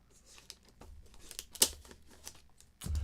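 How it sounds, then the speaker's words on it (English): Samurai scissors cutting open the top of a figure box, faint snips and crinkling of cardboard and plastic with one sharper crackle midway and a thump near the end. "let's cut up the top here with the samurai scissors"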